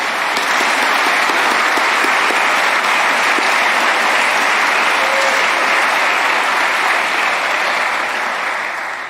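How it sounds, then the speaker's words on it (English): A large audience at a university convocation breaks into sustained, loud applause, a thick wash of clapping that stays strong and even for several seconds before fading slightly at the end. "let's still give him a round of applause"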